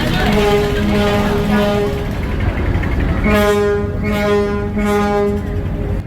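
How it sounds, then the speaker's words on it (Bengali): Loud, deep horn blasts from the passenger launch Pubali 12 departing Dhaka, one long blast followed by three short pulses, close and booming over engine rumble. "বারবার ট্রিপল হর্ন দেয়া হচ্ছে আর এটাই হচ্ছে লঞ্চ ছেড়ে যাওয়ার লাস্ট সংকেত"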